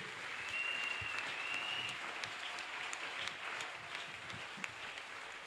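A church congregation claps together in sustained, moderately distant applause during a worship service, a steady wash of hand claps with a faint tone running briefly underneath.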